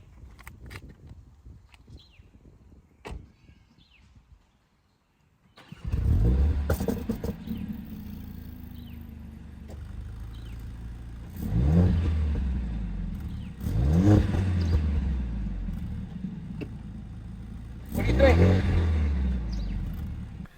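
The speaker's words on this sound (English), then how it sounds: "I thought I'd give you a quick little exhaust note sound." Mercedes-AMG A45s with its 2.0L engine fires up after a quiet lead-in, then idles and is revved in three loud, close bursts of exhaust note, each rising and falling back to a throaty idle.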